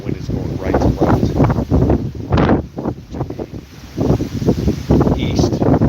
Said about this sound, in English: The wind is going right to left.